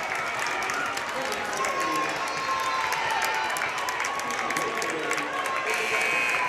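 A crowd at a Romeoville High School varsity basketball game roars after an and-one basket, sustained loud cheering and clapping from the stands with voices mixed in throughout.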